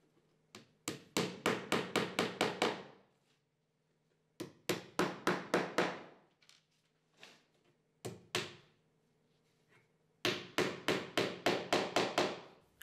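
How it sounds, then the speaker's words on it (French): A hammer drives glued wooden dowels into holes, sharp knocks arriving in quick bursts of six to eight evenly spaced blows, separated by short pauses and a few lone taps, close and clear. "Fixez les chevilles dans les trous avec un peu de colle et un marteau."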